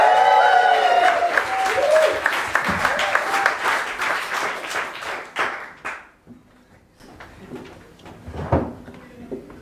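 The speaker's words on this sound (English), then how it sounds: "Big round of applause for Adam Leopard." Applause from an audience at a poetry slam fills the first six seconds, dense and fairly close, with a few whoops, then thins to scattered claps and faint crowd shuffle as the room settles.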